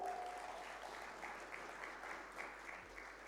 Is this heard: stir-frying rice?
no